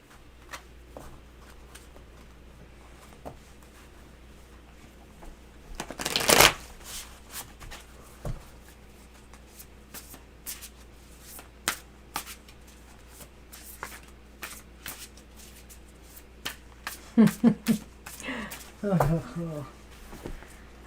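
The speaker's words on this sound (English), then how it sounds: "so give it a good shuffle, Mr. O." Tarot cards are shuffled by hand close by with soft repeated rustles and taps, one sharper riffle burst standing out, over a low steady hum, with a voice speaking briefly near the end.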